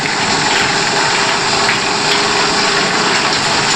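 A mustard oil mill machine crushing and pressing mustard seeds runs with a steady, loud mechanical drone and grinding rumble, continuous and unbroken throughout, with no talking.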